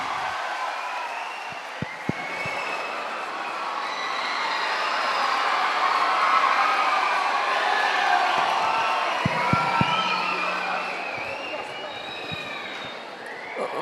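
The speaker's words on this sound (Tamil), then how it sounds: "அவருக்கு ஒரு உற்சாகமான கரகோஷத்துடன் வரவேற்பை நல்குங்கள்" At a women's arts and science college event in Arcot, an enthusiastic crowd claps and cheers in welcome. The sound rises into a broad, sustained roar mid-stretch, with a few sharp claps and a brief voice standing out.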